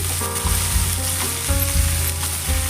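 Flat beans sizzle and fry in a pan while a little water cooks off, a close, continuous crackling hiss with a few stirring knocks and no voices over the short stretch.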